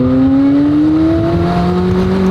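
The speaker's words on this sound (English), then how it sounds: "Give it full throttle right now." A heavily modified Bentley Continental GT engine revs at full throttle, holding a loud, close, steady roar whose pitch climbs slowly and evenly throughout, with no talking.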